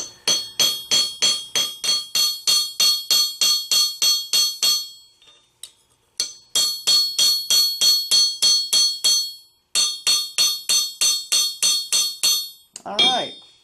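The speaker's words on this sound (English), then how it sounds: "if you hold this on a firm surface, like a little bench anvil like this, you're essentially hammering both sides at the same time" A hammer strikes brass held on a small bench anvil in rapid, evenly spaced blows with a bright ringing metallic ping. The blows come in three runs separated by short pauses, and a brief voice follows at the end.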